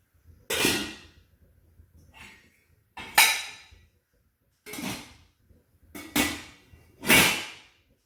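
Saucepans and lids lifted out of a dishwasher and set down, giving five separate clattering metallic knocks spread over several seconds, each ringing briefly before fading, with quiet pauses between.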